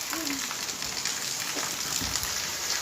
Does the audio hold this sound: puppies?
no